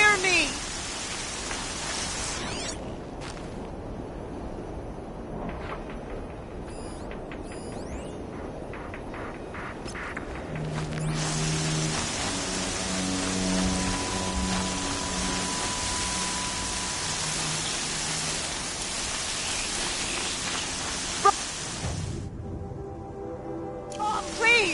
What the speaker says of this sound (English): There's heavy rain.